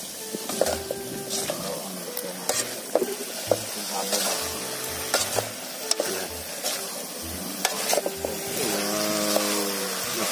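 Eggplant sautés in a pan seasoned with fish sauce, a continuous sizzle under repeated clanks and scrapes of a utensil stirring against the pan, close by.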